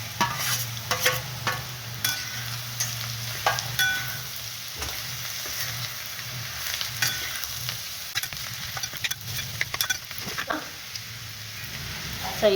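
Potatoes with turmeric and onion frying in a pan, a steady close sizzle under repeated scraping stirs, with a dog faintly barking or whimpering in the background.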